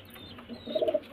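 Result-holding pigeons perched in a loft give a brief burst of low cooing, a few quick pulses near the end of a short, otherwise quiet moment.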